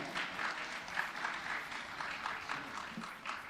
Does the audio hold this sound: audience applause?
yes